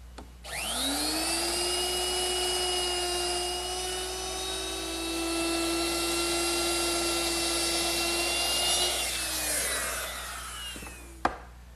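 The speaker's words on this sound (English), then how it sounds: "I'm going to use my router, which is equipped with a 3/8-inch beading bit." Wood router fitted with a 3/8-inch beading bit rounding over the corners of a table leg: one steady, loud high-pitched whine that holds for about ten seconds, then winds down and ends with a short knock.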